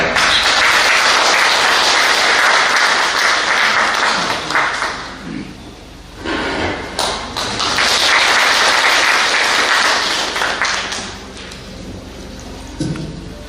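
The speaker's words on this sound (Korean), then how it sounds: "큰 박수를 부탁드립니다" Audience at a political party founding rally in a Korean theater applauds loudly, a dense, steady wash of clapping that thins briefly in the middle before swelling again and tapering off.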